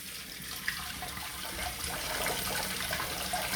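Warm water running steadily from a tap, a continuous close splashing hiss that grows slightly louder as it flows.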